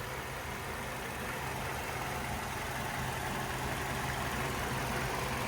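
A 2008 Hyundai Sonata's 2.4-liter four-cylinder with automatic transmission idles steadily and smoothly, heard close from the open engine bay as a constant low hum with no talking.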